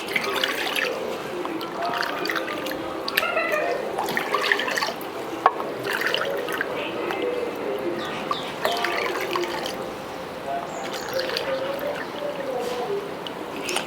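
Four cups of water poured into a pot while making poha papad dough, a steady splashing pour running throughout, close up with no talking.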